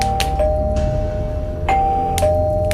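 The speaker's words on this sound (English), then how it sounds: "The doorbell rang and rang" Doorbell rings repeatedly in a tense domestic scene, a sustained two-tone electronic chime sounding three times in quick, insistent succession over a low background bed, loud and close.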